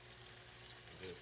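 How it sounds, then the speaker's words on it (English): Delmonico steaks frying in a hot pan, a steady close broadband sizzle that holds evenly throughout with a slight swell near the end. "So now we got our Delmonicos frying"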